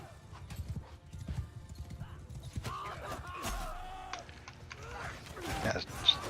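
Horse galloping on a Bannerlord battlefield, a steady rapid clip-clop of hooves throughout, ending in a brief whinny amid the clatter of combat.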